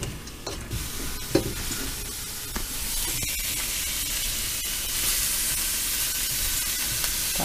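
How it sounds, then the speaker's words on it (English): Golden beets sizzle steadily in a hot pan, a constant crackling hiss broken by a few scraping stirs, close and moderately loud. "but I like to hear that sizzle."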